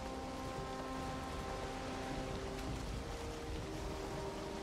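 Steady rain falling at night near the ocean in the game Valheim, a constant even hiss with a low rumbling wash and no pauses throughout.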